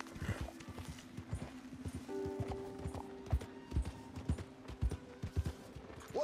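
A horse's hooves clop at a steady walking rhythm in the Red Dead Redemption 2 video game, close and moderately quiet, accompanied by a sustained tonal drone and a brief breathy whinny-like sound near the start.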